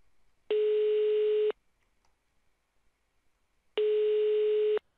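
Phone line tone during a call in a Minecraft game, two steady one-second tone bursts separated by about two seconds of near silence, loud and clean.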